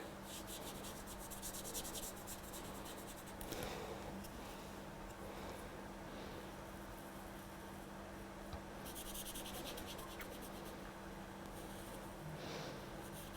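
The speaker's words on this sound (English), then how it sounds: "just colour it in, follow my pencil line." A black pen colours in a stamped drawing, giving a quiet, steady scratchy rubbing of tip on paper with small irregular strokes and a faint hum beneath.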